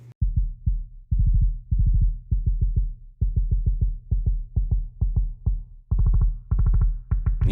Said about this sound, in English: you're going to start hearing the introduction of a clicky sounding element to the kick drum